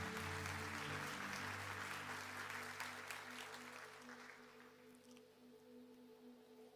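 An audience at a talk or motivational event claps loudly for the actors, in a dense, sustained round of applause that slowly fades toward the end.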